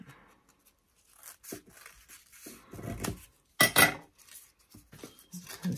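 Scissors snipping through paper while crafting a paper morning glory flower, a few quiet close cuts and rustles in short bursts with a sharper clink near the middle.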